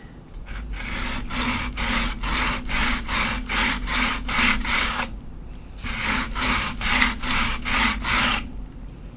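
Rhythmic back-and-forth sanding of a small hard coaster, close and steady, with strokes in a quick regular pulse, a brief pause, then more strokes.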